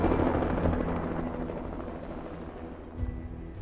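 A helicopter roars loudly and continuously with a dense rotor rumble, fading slightly toward the end.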